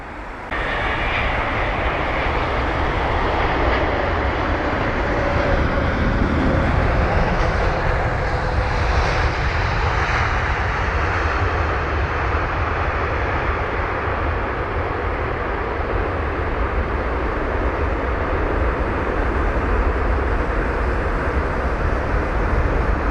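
Airbus A330-900neo jet at London Heathrow, its engine roar loud and sustained throughout, a broad steady rumble with a slowly shifting whine as the aircraft passes.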